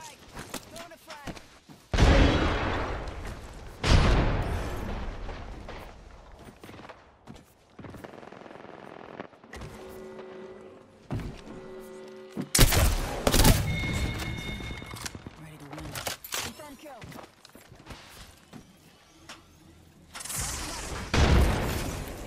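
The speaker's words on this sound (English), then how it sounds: "Throwing a frag." Frag grenades detonating in Apex Legends, several loud booming blasts spread across a chaotic gunfight with bursts of automatic fire, a player voice talking in between.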